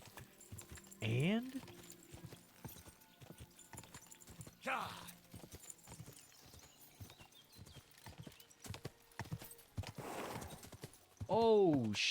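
A horse's hooves clip-clop steadily at full gallop in Kingdom Come: Deliverance 2, with occasional whinnies breaking through and a voice talking over it.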